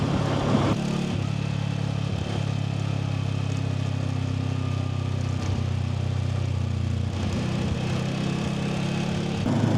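Voge 525 DSX motorcycle with its stock exhaust pulls steadily while being ridden, a continuous close engine drone with slight dips and surges in revs, mechanical hum throughout and no one talking.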